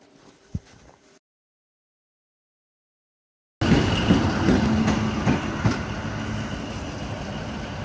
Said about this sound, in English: Bonus train!